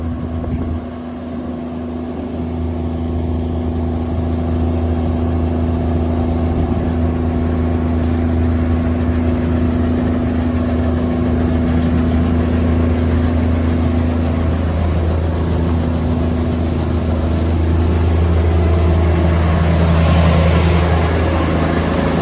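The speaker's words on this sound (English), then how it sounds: "Nothing like the sound of a Cummins M11." A Cummins M11 diesel powering a Gleaner R72 combine while it harvests wheat gives a loud, steady, close droning hum with a constant low pitch that holds for the whole stretch, without a break and with no voices.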